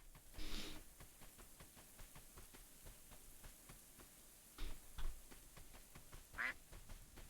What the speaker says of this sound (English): I heard a quack